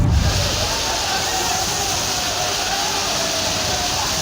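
A swollen river in Kathua, Jammu and Kashmir, surges after heavy rain, its floodwater rushing in a loud, dense, unbroken roar with a heavy splash at the start.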